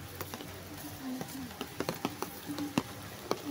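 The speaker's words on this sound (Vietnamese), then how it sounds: "Giờ đang mưa luôn nha" Rain patters outdoors on an umbrella held overhead, as scattered irregular taps and light drips against a quiet background.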